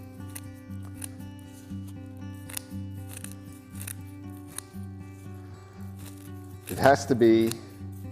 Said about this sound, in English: take our scissors and start whittling it down.